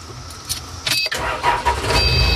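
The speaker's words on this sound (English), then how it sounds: "Got the little four-cylinder BT Cummins in here. I'm sure she'll crank right up." Four-cylinder BT Cummins diesel engine on a 1991 Grove AP308 crane cranking briefly, then catching and settling into a loud, close, rumbling idle, with no talk.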